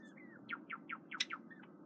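A male pet bird sings a quick run of bright, rising chirps, five or six notes close together in the middle of the phrase, heard up close over a low steady room hum.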